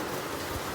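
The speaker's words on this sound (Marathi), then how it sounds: "जो काही आता पाऊस पडतो आमच्या इथे" Steady rain falls as a dense, even hiss throughout the short stretch, with no voices heard.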